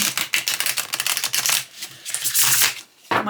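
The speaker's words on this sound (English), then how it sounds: "I like the way these shuffle." Rapid papery riffling and flicking of bendy tarot cards being shuffled up close, in quick bursts with short pauses between.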